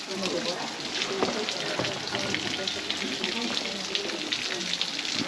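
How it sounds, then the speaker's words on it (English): Small garden fountains at the Gardens of Alfabia in Mallorca squirt water in a steady, close hiss and patter that runs without a break, with light splashing on the surface below. "all these little fountains are just squirting up there, giving me a little bit of a soaking actually"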